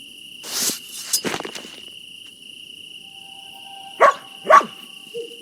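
In a video game, steady cricket chirping fills the background while a dog barks a few times, first more distantly and then twice more clearly and close.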